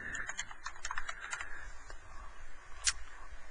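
A group name being typed on a computer keyboard: a quick run of soft, close key clicks at the start, then a pause and a single sharper keystroke near the end.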